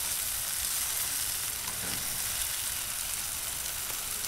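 Chicken wings sizzle on a 22-inch Blackstone griddle in a steady, full frying hiss with occasional faint pops, close and continuous, with no one talking.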